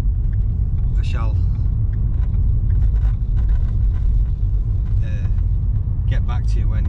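A car cruises along a road at night, its steady low engine and tyre rumble filling the cabin throughout. Occupants talk over it and bright chirpy sounds come and go.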